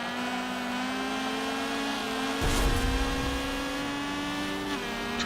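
Race cars drive in Forza Motorsport 7 with a steady engine drone close by. One brief burst of road or contact noise cuts through midway, and no one speaks.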